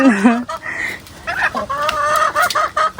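Chickens clucking close by, including a hen, with a few cackling calls and squawks; a voice can be heard briefly in the background.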